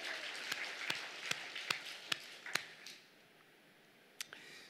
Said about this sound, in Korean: 하나님께 박수 영광